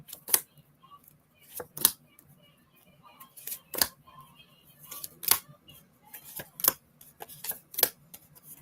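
Tarot cards are shuffled by hand in a series of sharp, crisp riffling snaps spaced irregularly, close and fairly quiet, with faint rustling between bursts.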